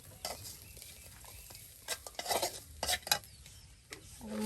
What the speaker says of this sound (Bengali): নতুন পাটা ধুয়ে নিল